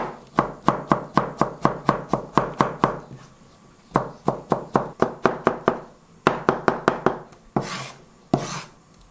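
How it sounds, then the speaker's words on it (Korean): A knife chops squash rapidly against a cutting board in quick bursts of crisp, close knocks, pausing briefly between runs. "호박도 똑같은 방법으로 썰어야 됩니다."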